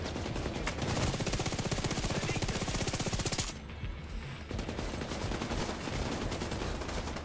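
Automatic gunfire in the video game The Division 2, a rapid, sustained burst of loud shots, a brief pause, then further firing and game noise, with no speech.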